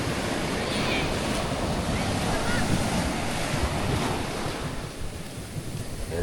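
Close, steady surf washes against the shore near a coastal house, a broad hissing roar with low rumble and wind noise on the microphone, continuing without clear breaks or speech.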